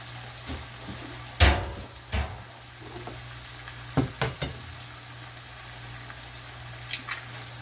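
Ground beef sizzles steadily in a frying pan as eggs are cracked in, with a few knocks and clatters from the pan and utensils over the constant frying hiss.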